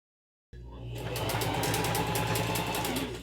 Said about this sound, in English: I'm going to sew the side seams to the bottom seam right sides